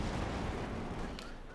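Heavy mortar fire in the strategy game Company of Heroes 2, a dense, continuous rumble of explosions and gunfire with a brief sharper burst near the end, with no pauses.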